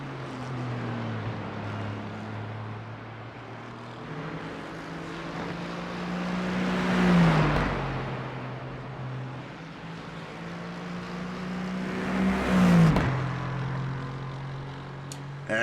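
An Aston Martin GT3 race car engine in a sim racing game at Barcelona drones continuously and climbs in pitch twice in strong surges, like hard acceleration runs, loud and close without voices.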